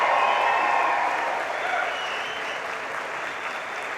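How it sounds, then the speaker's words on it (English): Graduation audience for a sport and exercise science department breaks into loud, sustained cheering and applause, a dense wash of clapping and voices that gradually settles slightly over a few seconds. "I want a proper cheer of thanks that your parents deserve."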